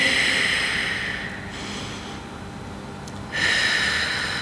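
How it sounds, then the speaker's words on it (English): Slow, deep breaths during a gentle seated Pilates stretch, a long airy exhale fading out, a pause, then a fresh inhale rising close to the microphone. "And breathe."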